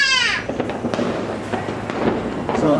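Fireworks explode in a village display, a dense run of booming and crackling bursts going off continuously and loudly, with a rising whistle at the start and voices faintly underneath.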